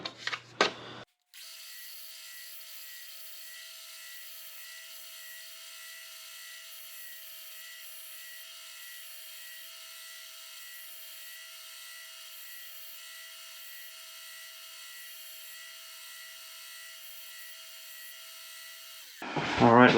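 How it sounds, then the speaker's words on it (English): A steady, continuous power-sander drone on metal holds for about eighteen seconds, with short bursts of louder noise at the start and end. "let's go ahead and sand this guy level with the metal."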